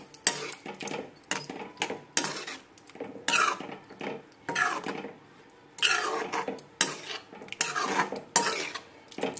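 A spoon stirs kasuri methi through paneer butter masala in a metal pan, giving repeated scraping and clinking strokes in uneven bursts with short pauses. The sound is close, with no talking over it.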